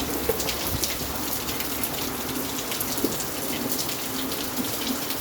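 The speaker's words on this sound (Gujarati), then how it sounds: "તો ગાઈસ અત્યારે વરસાદ ચાલુ થઈ ગયો" Rain falls steadily on a tree and nearby surfaces, a dense even hiss of drops with occasional sharper patters, close and continuous with no voices.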